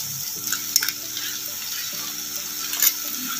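Ground spices with tomato frying in a pan for methi shaak, a constant bright sizzle under a faint low hum, with a couple of brief spoon knocks and scrapes.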